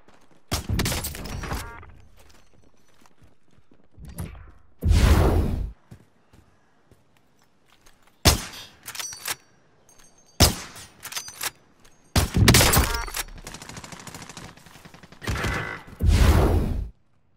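Gunfire in the Call of Duty Warzone battle royale game comes as several loud, sharp bursts and single shots, separated by quiet gaps, close and dominant.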